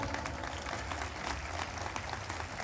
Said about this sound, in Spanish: Que le doy un fuerte aplauso.